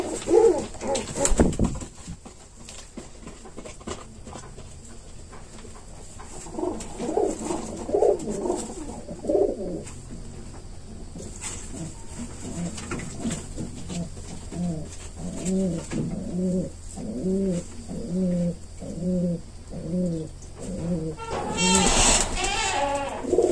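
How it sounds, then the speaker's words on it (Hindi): A Garra pigeon coos close by in repeated soft, throaty rolling calls, a long run of steady rhythmic coos in the middle, over faint background noise, with a person's voice briefly heard. "ये हमारा गर्रा कबूतर है।"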